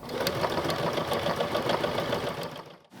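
A Pfaff Ambition sewing machine stitches a decorative line through quilt binding with fancy thread, a close, fast, steady mechanical whirr of rapid needle pulses that stops abruptly near the end.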